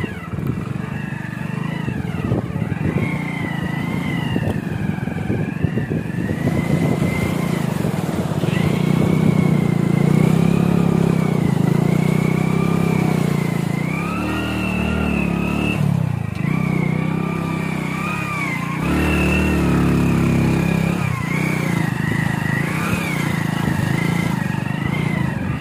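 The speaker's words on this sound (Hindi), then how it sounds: "अभी हम अपनी बाइक को कूदाएंगे नदी में, आप देखिएगा कैसा माहौल बनता है।" A motorcycle rides down into and across a river in Nepal, its engine running steadily and loud throughout with shifting revs as it pushes through the water toward a forest trail.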